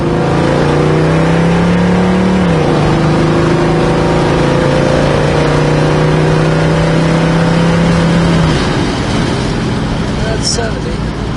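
A 1970 Pontiac GTO cruising down the road in traffic, its engine holding a steady drone that shifts pitch once as it changes speed, loud and continuous with road noise throughout.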